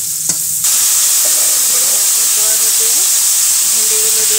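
Okra hits hot oil in a pan for a hilsa fish curry, a loud continuous sizzle and hiss after a short quieter start, with faint background tones underneath.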